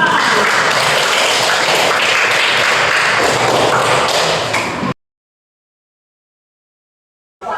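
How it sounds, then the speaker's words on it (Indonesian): Class group applauds together at the end of a lesson, dense, loud clapping that holds steady for about five seconds before cutting abruptly to silence. "Sekali lagi tepuk tangan untuk kita semua."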